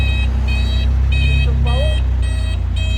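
An MG ZR 160 sounds a repeated electronic warning beep tied to a blown bulb, short high tones pulsing about twice a second over a low steady engine hum inside the car.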